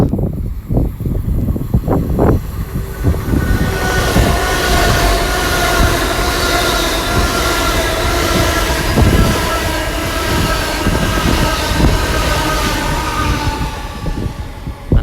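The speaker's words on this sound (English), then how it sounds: "it's Great Western Railway service to London Paignton, 802021 at the front" Great Western Railway train 802021 rushing past Exeter St Thomas station with a loud, sustained roar and clattering wheels on a windy day, heard close up with gusts at the start.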